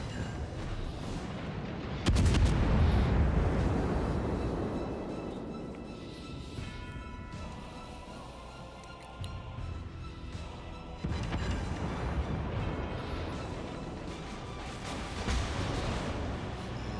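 Naval gunfire in World of Warships, played aboard the cruiser New Orleans in ranked battle: a heavy broadside boom rolling into a long rumbling decay, then a second, lighter volley, loud and close over a steady background roar.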